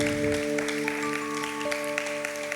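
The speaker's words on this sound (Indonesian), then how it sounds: "Tepuk tangan untuk Tuhan" A congregation at a Sunday church service claps together under a steady, sustained organ or keyboard chord. The clapping is moderately loud and continuous.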